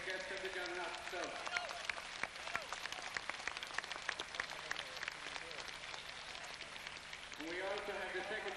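Audience applause at the Kilkenny Intermediate Final 1993 event, dense continuous clapping like rain across the room, with someone speaking faintly at the start and end.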